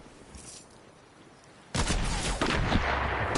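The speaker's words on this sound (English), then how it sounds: "I got sniped. The president has been sniped." A sudden loud, close sniper rifle shot in a video game cuts through quiet ambience, followed by a sustained roar of heavy gunfire and echoing blasts.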